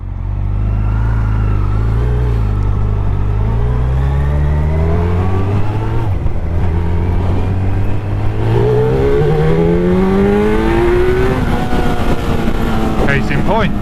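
A motorcycle engine runs and revs during a test ride after repairs, its loud tone rising and falling through gear changes with clear pitch sweeps, while a rider's voice talks over it.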